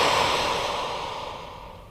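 A long, slow exhale during a gentle yoga pose for stress release, a close, airy breath that starts fairly loud and gradually fades over about two seconds, heard alone without talk.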